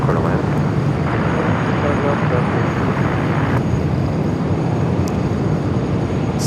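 Steady, loud jet rumble of a Singapore Airlines Airbus A350 moving on the ground at Los Angeles International Airport, a continuous broadband roar holding through the whole stretch with a faint voice in the background.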